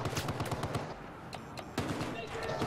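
Automatic gunfire bursts from Battlefield 4 gameplay, rapid clattering shots repeating close and loud through the clip with a couple of sharper single cracks, under faint voice chatter.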